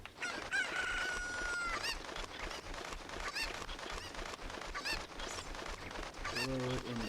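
Cucco chickens in the game Zelda: Ocarina of Time cluck and crow in a busy run of short chirpy calls, with a longer crow near the end, over steady game background sound.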